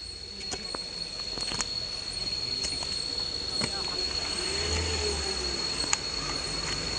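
Crickets chirping steadily in a forest along a trekking trail, a constant high trill with scattered clicks and faint rustling, quiet speech low in the background.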